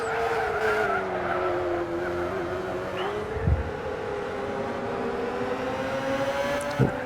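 Race cars including a front-wheel-drive Volkswagen Scirocco racing at the Tsukuba circuit in a video game, with a steady engine drone, a rising tire squeal and two short skid bursts near the middle and end, continuous and close.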